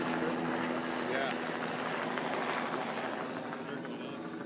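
A helicopter hovers overhead at a protest camp, a steady rotor and engine drone that fills the whole stretch at moderate loudness, with voices faintly mixed beneath it.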